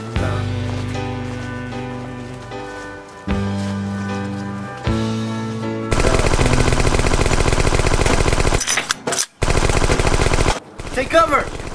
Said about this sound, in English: Take cover! MG42. Got an MG42. Hurry, fire!